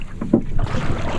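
A paddle or oar strokes the water on one side of a sailing canoe under way into the wind, giving a brief close splash and swish against wind noise on the microphone.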